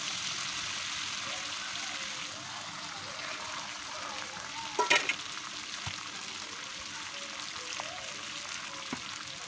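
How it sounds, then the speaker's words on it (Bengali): Curry frying in a pan as water is poured in to make gravy gives a steady close sizzling hiss, with a brief louder splashing burst near the middle. "এখন আমি অনেকটাই পানি দিয়ে ঝোলটা দিয়ে দেবো, আর এটাকে একটু ঝোলঝোল রাখবো।"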